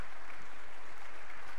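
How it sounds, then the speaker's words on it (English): A church congregation at a Baptist service applauds in a brief, even hiss of clapping, steady and somewhat distant, with no single claps standing out. "So would you give them a warm round of applause?"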